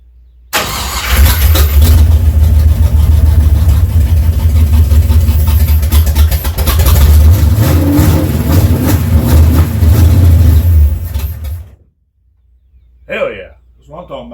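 A 1957 car engine cranks and catches, then runs loud and rough for about ten seconds before cutting off abruptly, followed by a short burst of excited voices in the quiet.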